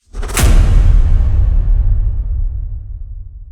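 A designed whoosh effect sweeps in sharply from high to low and swells loud and full, then rumbles on with a long fading tail, heard alone.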